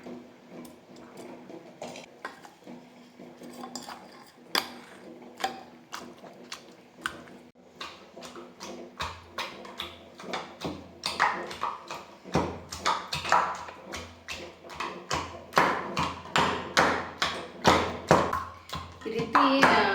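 A pestle pounds tomato gojju in a glass for an okra dish, making a close, repeated tapping and clacking that grows faster and louder over time, with a voice talking intermittently.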